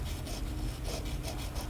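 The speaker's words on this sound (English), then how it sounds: "use my sanding pad here and kind of grind down some of this Conte crayon" A sanding pad grinds down a Conte crayon with steady, rhythmic rasping strokes, close and dry, with no talk.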